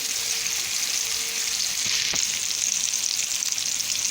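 Turkish köfte meatballs with vegetables fry in a pan on the stove over medium heat, giving a steady, close hiss of sizzling oil with a brief soft clink partway through, no talking.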